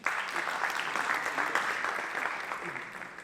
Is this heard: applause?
yes